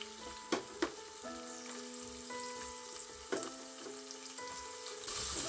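Onion and garlic frying in hot oil in a pot on a gas stove, a steady soft sizzle with a few sharp crackles and pops, no voices.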